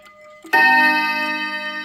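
A Hermle triple chime mantel clock with a German 1050-020 movement strikes one bright, ringing chime note that rings on and sustains after a quiet ticking start.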